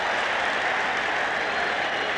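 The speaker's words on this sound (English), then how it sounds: "And the crowd booing a moment ago cheers now." A football stadium crowd at a 1989 Vikings at Lions game cheers loudly in a steady, dense wash of noise with no talk over it.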